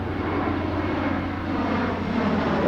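Boeing 737-10 MAX jet airliner flying a display at the Farnborough International Air Show 2022, a steady broad engine roar heard from a distance, constant in level over a few seconds, with no speech.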